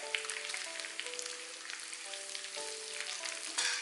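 Fenugreek, onion, curry leaves and dried chilli sizzle in hot oil for a tempering, a close, steady crackling fry with no pauses.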